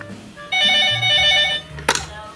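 A toy rabbit-eared telephone rings for an incoming mobile call with a bright electronic ring of about a second, followed by a sharp clatter and nearby voices.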